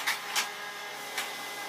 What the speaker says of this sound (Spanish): ya está imprimiendo